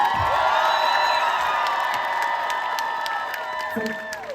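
A concert crowd at a show in Lviv claps and cheers loudly and continuously, with whoops and shouts layered over steady applause close at hand.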